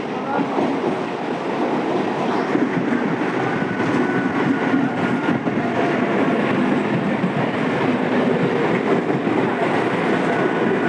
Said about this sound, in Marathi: आपण आता वाळकेश्वरला ट्रेन आली आपली.